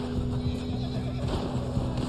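A horse neighs loudly in Red Dead Online during a snowy outing, giving a sustained whinny over steady wind-like background noise, with faint hoofbeats nearby and no talking.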